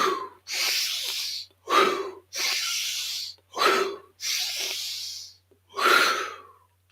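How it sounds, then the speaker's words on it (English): Five deep breaths, each a slow hissing inhale or exhale, alternate in a clear even rhythm with brief silences between them, close and alone. "5 deep breaths"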